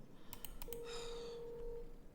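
A phone rings in a video game: a few quick clicking tones, then a single steady electronic ring tone holds for about a second before cutting off, faint and with no talking.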